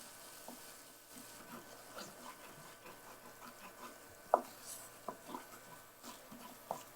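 Spices fry in a pan for puli kaaram murukku, giving a faint, steady sizzle with a few soft scraping clicks from stirring scattered through.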